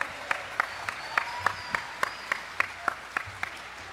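Rhythmic clapping from an audience at a San Diego campaign rally for a California governor candidate, sharp claps landing at a steady beat of about three per second over a faint crowd murmur.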